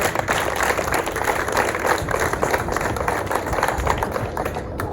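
Audience at a ceremony applauding the parents, loud sustained clapping from a crowd throughout, fairly close.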